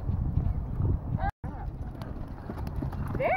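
Horse hooves clip-clopping in a steady posting-trot rhythm during a riding lesson, close and continuous, with an occasional whinny and a voice talking over them.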